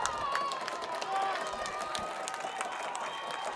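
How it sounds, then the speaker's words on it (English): A distant crowd at a Le Mars versus Sioux City Bishop Heelan high school football game cheers and claps in a steady roar, with faint whistles and shouts scattered through it. "The crowd gets excited here."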